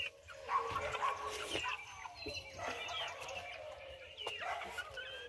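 Chickens, including a Silver Wyandotte, cluck softly while eating on a morning feeding, with scattered chirps and pecking close by and a dog-like bark briefly in the mix.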